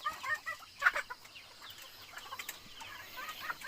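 Chickens cluck in short, scattered bursts at a rural farmyard, faint and fairly distant, with a steady outdoor background hiss and no talk.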